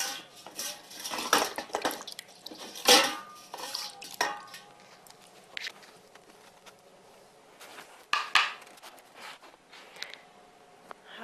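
Shirodhara therapy stones are dipped into a bowl of cold water, making scattered clinks, knocks and small splashes that come in irregular bursts at close range, with no talking.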